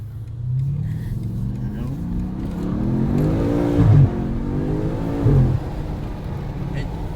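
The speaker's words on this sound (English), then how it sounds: "Okay, we're driving the BMW M8." A 2020 BMW M8 accelerates while driving, its engine rising steadily in pitch through the gears, heard from inside the car with a couple of brief thumps at shifts.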